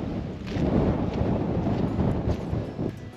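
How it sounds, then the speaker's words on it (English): Strong wind buffets a mountain summit in the Mourne Mountains, Slieve Commedagh, a loud, continuous roar with gusts that swell and ease, no voices. "try and shelter from the wind as much as possible"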